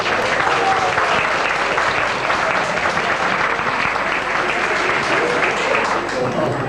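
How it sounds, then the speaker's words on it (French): A hall audience at an evening gathering claps warmly for returning trip participants, a dense, steady round of applause that carries on throughout. "je voudrais qu'on les applaudisse pour les remercier de leur fidélité."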